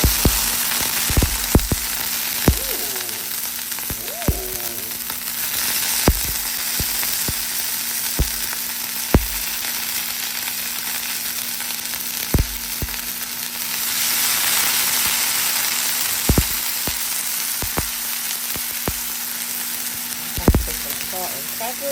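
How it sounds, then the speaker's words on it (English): Broccoli fries in a hot pan with a continuous sizzle, punctuated by sharp pops and spatters at irregular intervals, and a brief voice partway through. "Now we're going to put some of this broccoli"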